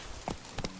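Hooves of Roach the horse in The Witcher 3 video game, a quick pair of clip-clop hoofbeats heard up close over a steady background hiss.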